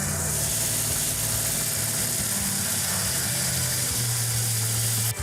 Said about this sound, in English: That's a good idle right there for right now.